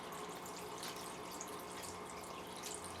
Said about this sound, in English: I'm just going to pump back the water, pour in the water